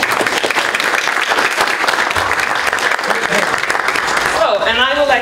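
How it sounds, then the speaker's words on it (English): Audience at a shipping and sustainable transport seminar applauds, a dense, steady wash of clapping hands that fills the room, with a voice coming in over it near the end. "give you an applause"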